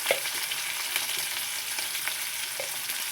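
Country chicken curry sautés with salt and turmeric in a village-style kitchen, a soft, steady sizzle with a few light stirring scrapes and no voices.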